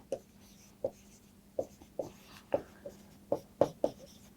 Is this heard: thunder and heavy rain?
no